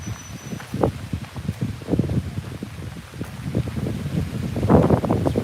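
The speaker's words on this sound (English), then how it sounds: "really windy right now" Strong wind blowing outdoors on top of the old city wall of Lucca, Tuscany, buffeting the microphone in uneven gusts along with irregular thumps and rustles, growing louder toward the end.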